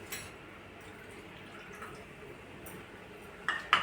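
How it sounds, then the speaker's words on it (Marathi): A few small spoonfuls of water splash and drip into a mixture one at a time, quiet and close, with a slightly louder pair at the very end. "एक दोन चम्मच एवढं पाणी ॲड करणार आहे"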